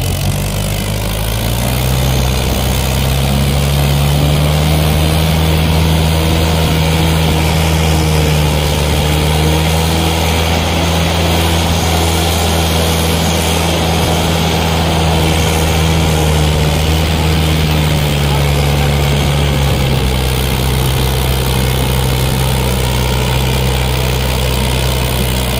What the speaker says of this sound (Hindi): ट्रैक्टर से जिद किया और ट्रैक्टर को चढ़ना पड़ा।